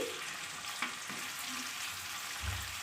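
King fish pieces fry in hot oil with a soft, steady hiss and faint crackle throughout, quiet and uninterrupted.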